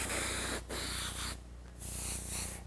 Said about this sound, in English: I'm going to spray just a little bit of yellow in there.